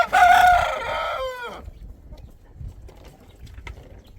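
A backyard chicken, likely a rooster, lets out a loud close call that trails off after a second and a half. Faint scratching and soft rustles follow in the quiet yard.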